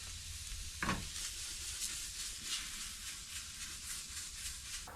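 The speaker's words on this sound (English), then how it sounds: "While the steak's cooking" Steak sizzling in a pan at a truck camper campsite, a steady hissing fry with faint crackles and one brief louder spatter, constant and moderately close.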